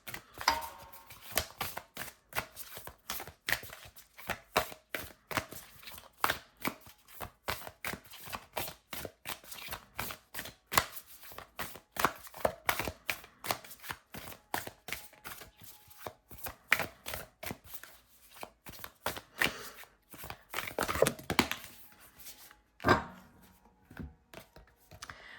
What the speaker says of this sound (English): Let me grab one of these cards for you guys too.